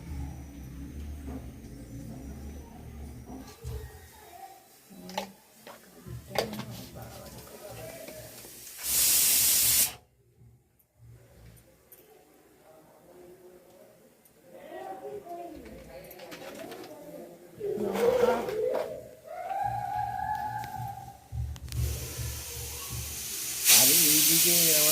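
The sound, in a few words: pressure cooker whistling while boiling potatoes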